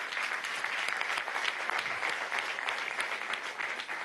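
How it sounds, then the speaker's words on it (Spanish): Audience applause at a presidential commission meeting with students on the constitution, a dense, steady wash of many hands clapping that holds for about four seconds at moderate distance. "Hay que aplaudir a eso."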